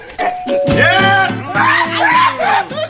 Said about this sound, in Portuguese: Uma campainha!